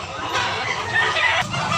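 Chickens cluck amid a busy market crowd at Tabunok, Cebu, where gamefowl are being sold; the fowl sounds are faint and scattered under steady chatter and background voices.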